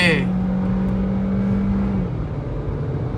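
A VW Polo GT TSI and a Hyundai i20 N-Line accelerate in a drag race with air conditioning on, giving a steady close engine drone that holds, then eases off after about two seconds.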